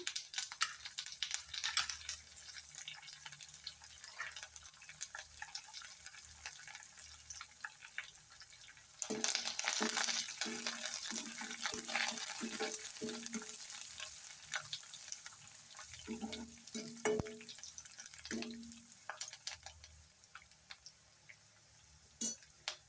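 Oil crackles and sizzles in a pan, with a burst of louder spattering midway as curry leaves hit the hot tempering oil, then fades to a lighter sizzle.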